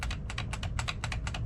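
A single key on a computer keyboard, F8 on an old-school gaming PC during boot, is tapped rapidly and repeatedly in a steady stream of close, crisp clicks over low hum.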